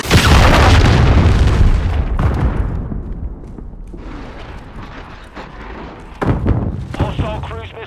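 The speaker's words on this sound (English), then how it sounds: "Hostile cruise missile launched." Cruise missile launch in Call of Duty Modern Warfare II: a loud booming blast that rumbles and slowly decays, followed by quieter battlefield noise and a second sharp impact near the end.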